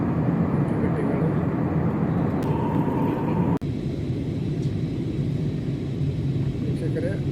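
An airliner's engines rumble steadily inside the cabin during flight, a loud continuous low drone with a brief click midway through.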